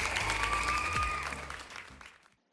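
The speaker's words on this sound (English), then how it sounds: "A round of applause for yourself." A short round of applause at the close of a yoga session, clapping that starts full and thins out as it fades, with a faint tonal sound running beneath the first half.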